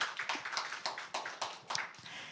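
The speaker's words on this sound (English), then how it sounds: "We need another big round of applause." Audience applause after a presentation at a startup event, a quick run of close, fairly faint claps for a couple of seconds with no talk.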